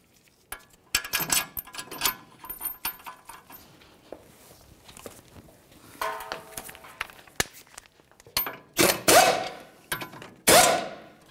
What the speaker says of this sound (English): Start in each of your mounting bolts and snug them up.